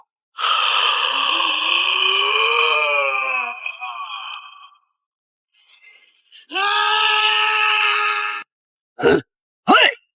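An old man yells out loud, drawn-out, strained cries while doing chest-expansion exercises as he walks outdoors early in the morning, with a short quiet pause and then sharp shouted bursts at the end.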